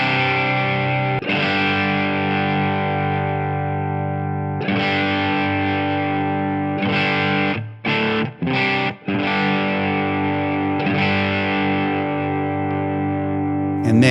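A heavily overdriven electric guitar through a Tonex amp model with the compressor set pre plays sustained distorted chords, loud and buzzy, with a few short choppy stops in the middle.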